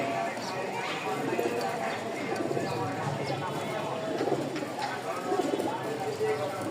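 Crested, feather-footed Rajshahi Giribaz pigeons coo and shuffle nearby, soft bird calls and rustling heard under someone talking steadily.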